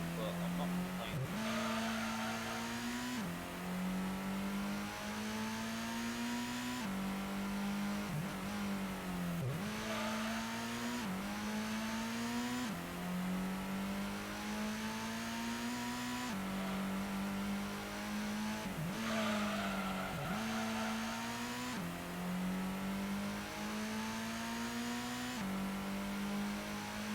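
The LMP Dragon race car in Gran Turismo, its engine droning and rising through repeated gear changes, with short dips and tire noise through corners, continuous under someone talking.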